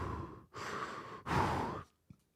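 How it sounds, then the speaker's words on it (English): Ghostface's heavy, Darth Vader-like breathing from a Scream 7 trailer: two long, loud raspy exhalations, then a faint short breath, with no talking. "Ghostface definitely sounds different, and he breathes like Darth Vader now."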